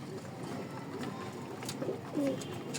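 Low cooing of pigeons, a few soft calls over quiet background rustle and faint ambient noise.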